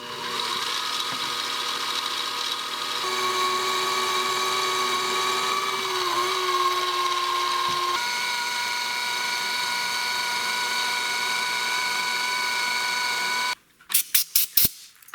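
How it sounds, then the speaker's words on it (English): A Walter 1/4 inch drill bit bores into a hard steel snowblower drive axle shaft, giving a steady, loud whine with sustained tonal bands for about 13 seconds, then stopping and leaving a few sharp clicks. "I've got one of my good Walter 1/4" drill bits in here."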